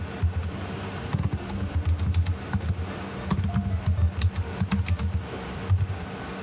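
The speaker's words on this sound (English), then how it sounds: "we can just go ahead and type in what we want" Close computer keyboard typing with bursts of quick clacking keystrokes and brief pauses, entering a caption text, with no talking over it.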